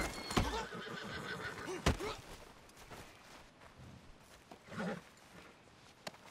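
A horse in the video game Red Dead Redemption 2 whinnies loudly, with scattered hoof clops and sharp thuds around it, recorded fairly close and at moderate volume.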